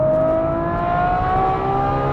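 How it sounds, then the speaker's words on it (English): A Ferrari 812 GTS with a Novitec exhaust holds a loud, steady engine drone, its tone rising slowly as the revs climb, heard from inside the car with no talking. "to have that exhaust sound"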